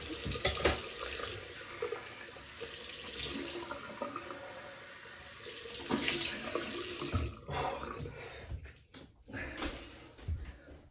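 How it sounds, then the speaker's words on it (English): Cold tap water runs and splashes into a basin for a rinse after a wet shave, gushing steadily then breaking into uneven spurts and splashes near the end. "Right, cold water rinse."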